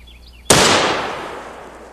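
A single AK-50 rifle with a bolt modification fires one outdoor test round: a sudden, very loud blast with a long, fading roll of echo after a quiet lead-in.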